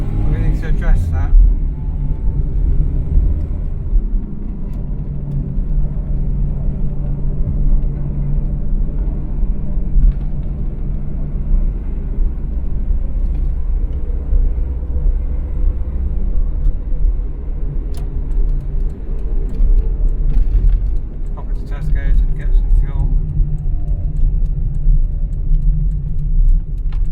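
A Renault 9 car with clutch problems runs with a steady, close, low engine rumble and drone throughout, struggling near idle, while someone talks over it.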